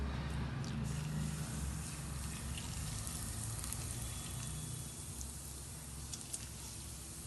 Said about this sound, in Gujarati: તો આપણે કુરિયા વઘારી દઈએ.